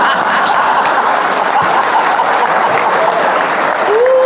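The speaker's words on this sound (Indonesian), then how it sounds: "Luar biasa itu, yang keras tepuk tangannya." Loud audience applause during a Buddhist Dhamma talk, a thick, continuous clatter of many hands clapping close by, with a few faint chuckles and a brief voice near the end.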